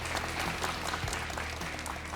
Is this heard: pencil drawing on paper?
no